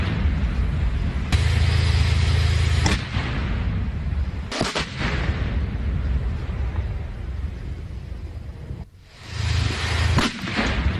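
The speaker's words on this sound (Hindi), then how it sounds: "एक बार आवाजें भी सुनवाते हैं किस तरह से लगातार बम्बार्डमेंट हो रही है" Continuous bombardment in Krasnopol, Ukraine, with heavy blasts and gunfire-like cracks rolling over a dense, roaring background, a brief lull near the end before more impacts return.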